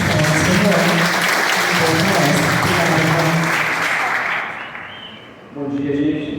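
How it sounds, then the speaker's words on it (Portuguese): Applause from a veterinary seminar audience, loud and sustained, with a tonal musical background beneath it; the clapping thins and fades near the end before a voice and music return. "Uma salva de palmas, por favor."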